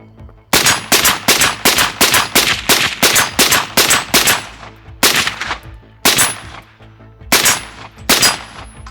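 SAK-21 rifle fired at a steel target, a loud, evenly spaced string of about a dozen sharp shots, each followed by a ringing metallic ping, then a few slower, spaced shots.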